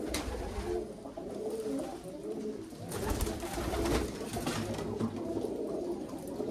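Pigeons, including blue-headed and black-headed birds, coo steadily inside an airy, spacious coop in Çatalca, a low rolling chorus of overlapping calls with some flutters and rustling close by.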